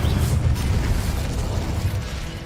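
An Incendio fire spell bursts in Hogwarts Legacy, a loud, roaring blast of flame with a whooshing, explosive body that carries steadily through the moment.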